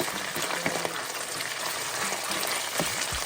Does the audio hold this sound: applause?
no